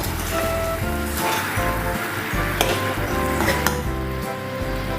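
Jaggery syrup with banana pieces and thick coconut milk simmering and being stirred in a pan for a Kerala sweet, a continuous bubbling sizzle with soft scraping strokes and a few clinks, heard close with no voices.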